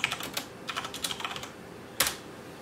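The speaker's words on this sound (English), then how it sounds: "you're seeing the IO as I'm typing keys on the keyboard" Keys tapped on a computer keyboard attached to an RC2014 Z80 retro computer: a quick run of close, crisp clicks for about a second and a half, a short pause, then one more keystroke, with no voices.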